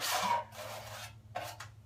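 Close, rough rasping scrapes of a tool mixing thick plaster by hand for a water-damaged ceiling repair, in a few uneven strokes with short pauses between.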